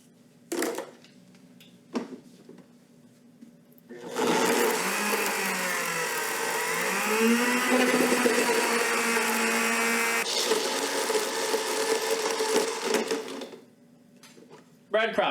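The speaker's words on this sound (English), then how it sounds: "And then you just throw it in a blender." A blender grinds toasted bread into breadcrumbs, a loud steady whirring roar running for about nine seconds after a few brief knocks and clicks, then cutting off.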